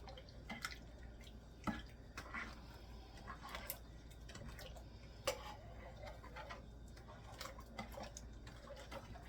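Blueberry barbecue sauce ingredients being stirred together in a crock pot for home canning, giving soft, quiet tapping and liquid ticks from the spoon in an irregular rhythm, faint and close.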